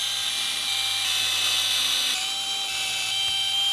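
A rotary tool whines steadily at high speed as it trims an RC monster truck's ESC mount, loud and close with a small dip in tone partway through.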